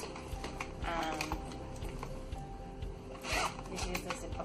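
The zipper on a brown sling bag is pulled open in short rasping strokes, close to the mic, with faint rustling of the bag around it.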